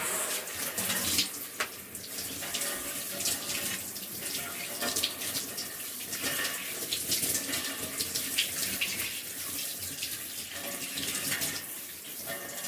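A shower runs steadily at home, a dense, loud wash of spraying water hissing continuously with small fluctuations as the stream hits the body and floor.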